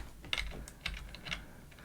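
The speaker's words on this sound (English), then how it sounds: "right now, I'm going to hit the up arrow on my keyboard" A few separate key presses on a computer keyboard, about three soft clicks at a steady pace, close and quiet, heard alone.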